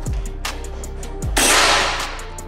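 A Ghost Warrior V2 air rifle fires once with a crisp crack, then a brief burst of broadband noise decays, with light mechanical clicks around it.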